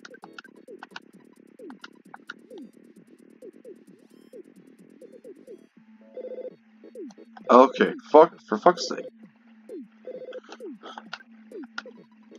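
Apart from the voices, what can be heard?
telephone ringing in the video game Earthbound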